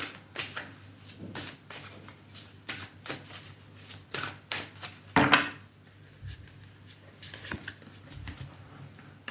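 A tarot card deck being shuffled by hand, with a series of quick riffling and tapping bursts close up, irregular and fairly quiet, with no talking.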